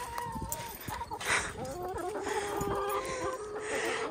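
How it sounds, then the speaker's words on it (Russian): Backyard hens cluck and chatter in short, overlapping bursts, fairly close and moderately loud, with a voice heard among them. "Мои курочки ку-ку-ку."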